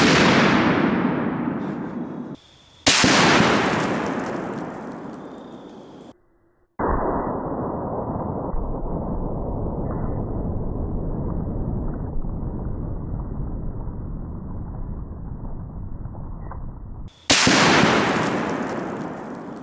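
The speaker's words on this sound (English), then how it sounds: "Let's hit it again with the 50 BMG." A 50 BMG rifle firing armor-piercing incendiary tracer rounds at an Atlas stone, booming close shots with long decaying tails, separated by gaps and a steady roaring stretch in between, with no talk.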